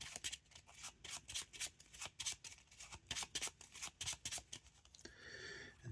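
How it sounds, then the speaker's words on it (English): Marvel Champions card deck being riffle-shuffled on a table, a rapid series of crisp flicking bursts in quick rhythm, close and fairly quiet, ending in a softer rustle. "Shuffle the Invocation deck."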